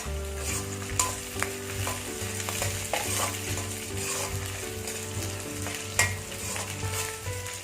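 Garlic and broken green chillies sizzling in a pan of oil for mutton sukka: a dense, continuous frying hiss with occasional stirring clicks and scrapes, close up and steady, with no voices over it.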